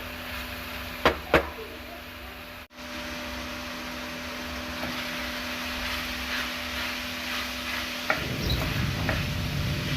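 Chicken frying in a handi pot gives off a steady, close hiss of sizzling. Occasional light scrapes and taps of stirring sit over the hiss, and it swells a little louder near the end.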